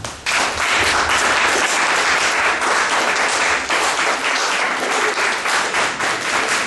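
A gallery audience gives a loud, dense round of applause welcoming artist Agnieszka Łukaszewska from Kraków, bursting in suddenly and sustained evenly to the end.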